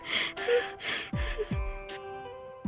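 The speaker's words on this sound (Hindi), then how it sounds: "अपना गला साफ कर रहे हैं" A series of harsh, gasping throat-clearing noises in short bursts, several hacking rasps with pauses between them, close and fairly loud.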